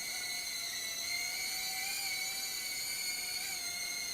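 Tiny motors on a 1602 micro mesh-frame FPV drone whine steadily at takeoff outdoors, a sharp high-pitched buzzing tone that holds level with slight pitch wobbles.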